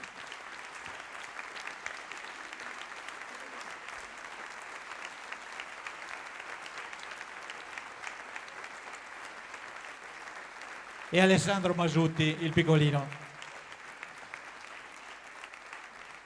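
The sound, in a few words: applause for choir members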